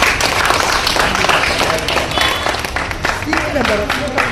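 Loud crowd applause greets a guest at a mock fire drill held at Krishnarajapura public hospital: dense, sustained clapping runs throughout with voices mixed in underneath.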